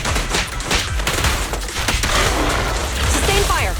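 Rapid bursts of video game gunfire crackle in quick succession, loud and close, with sharp impacts and a brief electronic tone near the end.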